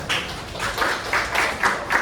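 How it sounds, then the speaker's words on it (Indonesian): Students in a classroom clap for a classmate, a small group's light, uneven applause in loose repeated bursts, fairly faint and brief. "sekarang juga beri dulu tepuk tangan untuk teman"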